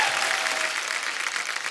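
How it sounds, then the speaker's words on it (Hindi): Loud, dense applause from a studio audience at a Hindi comedy show featuring two singers, sustained and steady throughout. "एक बार अमित जी के लिए जोरदार तालियां हो जाए."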